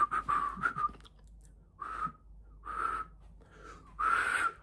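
A person whistles in short breathy bursts that break off and restart, the tone thin and wavering, with breath and pauses between attempts at close range.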